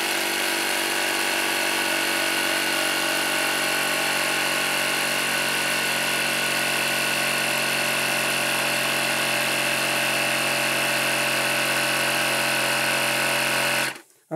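Pneumatic retract system for RC model landing gear being pressurised, a steady, loud mechanical buzz like a small compressor running continuously for about fourteen seconds before cutting off abruptly.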